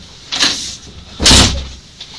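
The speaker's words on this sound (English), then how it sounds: "it's just the doors. I think it's swollen from all the humidity." A door swollen from humidity is forced open, giving two broad scraping, grinding bursts, the second louder and longer, with no talk.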